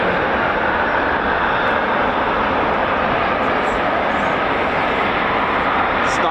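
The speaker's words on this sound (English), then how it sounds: "Startups of the Typhoon." A Eurofighter Typhoon FGR4 jet engine at RAF Coningsby roars in a loud, continuous, broadband rush that stays constant throughout, with no break or pause.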